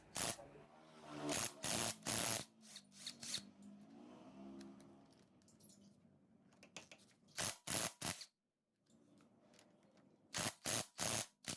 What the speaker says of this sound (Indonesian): Dilanjutkan dengan membuka baut pengikat camshaft